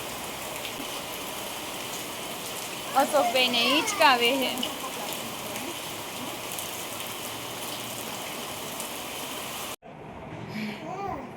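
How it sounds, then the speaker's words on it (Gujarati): Steady rain falls on a house in a village on a morning after a night of heavy showers, a dense even patter that runs through most of the clip while people talk over it briefly. "ચાલુ થયો છે હવે વરસાદ"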